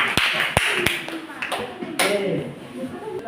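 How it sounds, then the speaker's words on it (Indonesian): A classroom group receives brief applause after its presentation, with a few sharp, separate claps rather than a sustained ovation, heard under a quiet room. "Oke, kasih aplaus untuk kelompok kita."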